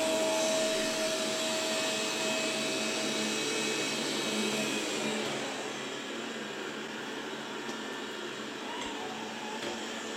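Dreame L10s Ultra robot vacuum working over a carpet, a steady close whirring suction hum with broadband hiss that drops slightly in level midway and continues alone, with no talk.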